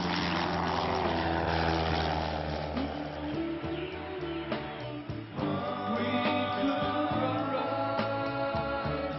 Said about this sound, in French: Gillot est un gros aéroport, mais les avions légers, ils sont aussi chez eux.